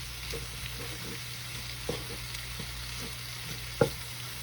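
Flour stirred into potatoes and vegetables frying on a stovetop: a soft, continuous sizzle under a low hum, with light scrapes at irregular intervals and one sharper knock toward the end.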